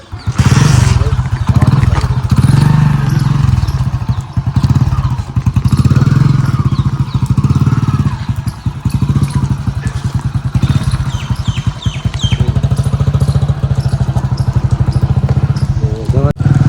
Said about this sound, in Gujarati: ચાલુ કરો બાઈક આપણે.